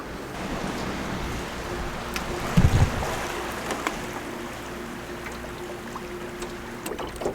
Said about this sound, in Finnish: Kova merenkäynti. Heiluu vene paljon